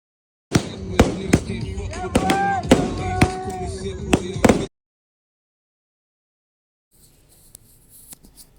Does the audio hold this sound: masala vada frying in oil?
no